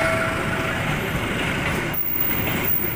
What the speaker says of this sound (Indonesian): Kereta api Sancaka.